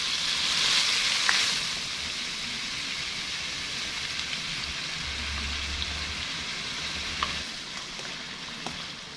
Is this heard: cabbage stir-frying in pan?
yes